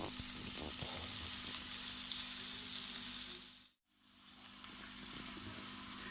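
Chopped garlic and four chopped green chillies frying in a pan: a loud, close, steady sizzle with faint stirring, dipping briefly almost to silence before the hiss returns just as strong.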